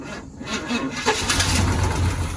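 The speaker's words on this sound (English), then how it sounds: "it does run. It just started. It's cranking slow." A 1972 Chevy Cheyenne C20 pickup, sitting unused for 16 years, cranks slowly and then catches, its rough engine noise rising into a steady low rumble close by.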